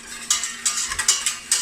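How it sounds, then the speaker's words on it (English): A whisk stirs the filling for a vegan banoffee pie in a pot, giving a few rhythmic scraping, clinking strokes against the metal, close and fairly clear, with no one talking. "So I like using a whisk for this to mix everything up."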